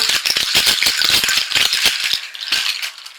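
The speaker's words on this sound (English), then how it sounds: "I've left enough space on there that they can rattle." A homemade rattle strung with about 28 loose bottle caps is shaken in quick, bright metallic bursts, close and loud, with a brief pause near the end.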